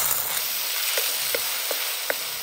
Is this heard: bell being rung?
no